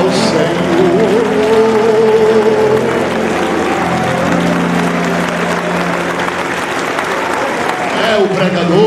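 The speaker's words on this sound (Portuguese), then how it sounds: "As palmas louvam ao Senhor." Church congregation clapping during a lively worship service, a steady wash of hands under singing or music and voices, loud and continuous throughout.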